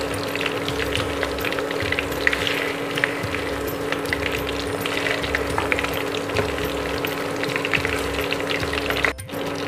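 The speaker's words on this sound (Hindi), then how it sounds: "फिश को पलट कर दूसरी तरफ भी फ्राई कर लेते हैं अच्छे से।" Fish fillets fry in hot oil in a pan over medium heat, a steady close sizzle and crackle running unbroken throughout, with a brief dip near the end as the fish is flipped.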